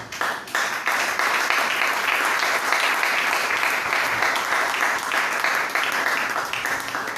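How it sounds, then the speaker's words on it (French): A church congregation bursts into sustained applause and cheering, dense clapping from a large crowd that swells after a brief start and carries on loudly throughout, with some voices mixed in. "Si tu es avec moi, acclame le Seigneur."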